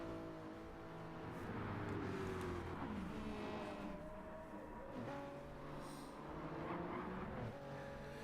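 Race cars, a Corvette and a Jaguar, cruise around the Fuji short circuit in Gran Turismo 7, their engines humming and droning steadily with gentle pitch rises and dips as they accelerate and lift, heard without talk.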